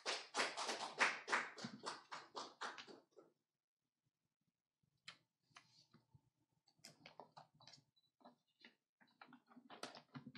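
A small audience at a Korean traffic safety seminar claps briefly for an incoming speaker, a quick run of close handclaps that fades to silence before scattered lighter taps and rustling resume.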